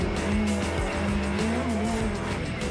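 Radical SR1 race car, a light 175-horsepower track machine, launches hard off the line with a loud, rising engine drone, brief wheelspin and tyre squeal, close and continuous.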